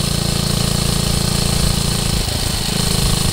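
Small engine with a worn centrifugal clutch bogging under load, a loud, rough, pulsing mechanical drone that sags and stutters partway through before picking back up, heard close and alone.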